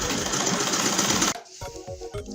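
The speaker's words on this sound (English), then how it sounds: "So let's go to sewing machine." A sewing machine runs fast and steadily for over a second stitching a fabric headband, then stops, leaving a few soft clicks and handling noises.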